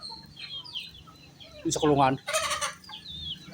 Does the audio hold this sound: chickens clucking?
yes